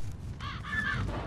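Crows caw harshly in the video game ZombiU, two quick raspy calls over a low background rumble.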